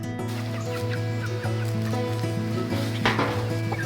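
Olive egger rooster clucking in a series of close, steady calls over a dense backdrop of other chickens and fowl, with a louder burst near the end; no talking.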